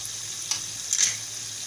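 Ground peanut and sesame powder cooks in hot oil for a stuffed chibhada dish, giving a steady soft sizzle with a couple of brief stirring clinks, close and continuous with no talk.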